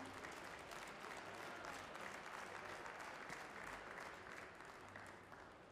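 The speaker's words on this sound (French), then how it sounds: "Je vous demande de les applaudir très fort, une nouvelle fois," Audience applause fills the hall at a butchery competition award ceremony, sustained and even, many hands clapping at once at a modest distance, fading a little toward the end.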